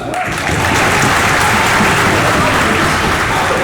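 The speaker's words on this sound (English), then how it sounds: "Please clap it up for that." Loud, sustained applause from a large crowd at a school sports banquet, dense clapping filling the whole stretch.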